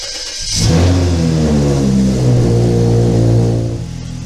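A BMW N54 single-turbo engine, freshly fitted with an 8HP transmission, cranks and fires for the first time, then settles into a loud, steady close-up idle with a rising and falling tone.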